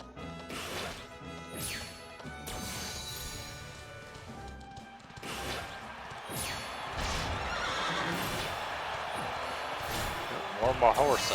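A horse race in Dragon Quest 11 plays out with loud whinnying horses, drumming hoofbeats, crashing impacts and game music. A player's voice talks intermittently over the racket, which grows busier and denser toward the end.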